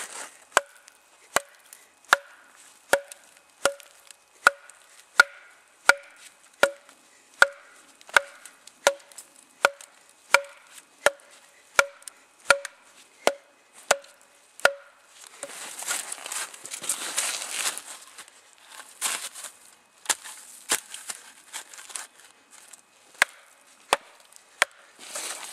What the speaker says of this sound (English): Look at the size of this knife and how it just shadows the width of this tree.